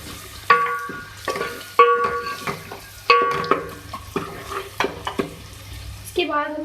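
A spoon stirs and scrapes ground coriander and spices through potatoes and capsicum in a pan, with sharp repeated clinks against the metal and a soft sizzle underneath, close and fairly quiet.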